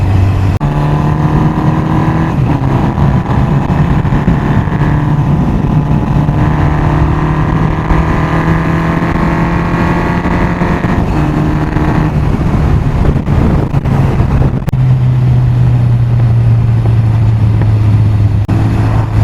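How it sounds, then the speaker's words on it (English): An old Honda 750 Four motorcycle engine runs close and loud in a steady drone, its pitch rising and falling with the throttle, with a brief crackle of backfire as it comes off the revs. "Nice crackly bit of backfire in there when you're off the throttle"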